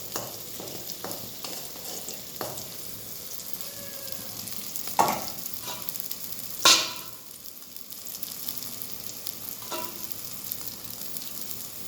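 Prawns in a rice flour and arrowroot batter fry in hot oil with a steady close sizzle, broken by a few sharp crackles and pops, with no talk.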